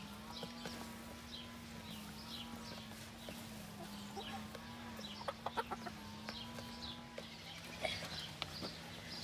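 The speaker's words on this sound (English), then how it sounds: "These are my chickens." Backyard chickens cluck softly in a scattered, irregular rhythm over a low steady hum, with a few sharper knocks and rustles nearby.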